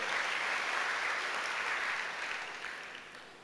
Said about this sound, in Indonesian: Saudara mau tepuk tangan kok setengah hati saudara.